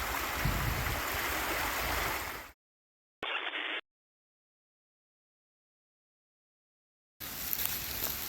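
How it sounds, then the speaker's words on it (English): Steady outdoor rain hiss, loud and close, broken by long silent gaps and a brief band-limited burst before returning. "Here comes the rain."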